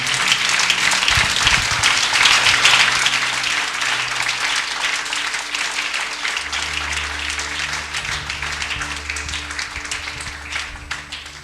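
A church congregation claps and cheers to acclaim the Lord, a loud, sustained burst of applause that swells early and slowly fades, with music playing underneath.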